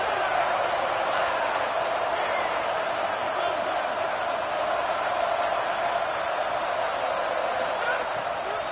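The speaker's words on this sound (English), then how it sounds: "Decibels rising as the crowd gets behind this defense on third down." Stadium crowd in an NCAA college football video game on third down, a broad, sustained roar that stays loud and steady, with no distinct cheers standing out.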